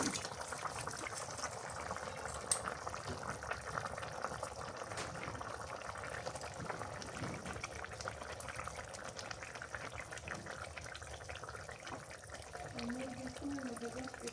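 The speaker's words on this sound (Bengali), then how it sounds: "তরকারি বলে উঠে গেছে" Curry with bottle gourd and river fish bubbling steadily in a pot over a village fire, a soft continuous simmering hiss with faint irregular bubbles, quiet and close throughout.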